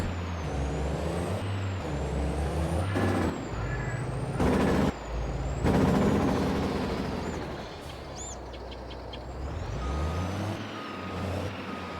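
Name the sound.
truck driving with air brakes in Farming Simulator 22 video game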